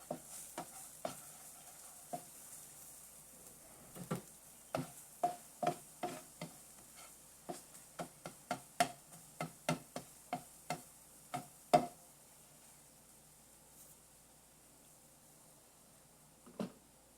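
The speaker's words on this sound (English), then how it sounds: "And I'm stirring the ingredients." Utensil stirring ingredients in a pan while cooking a recipe, a quiet series of light, irregular clicks and scrapes against the pan over a faint sizzle.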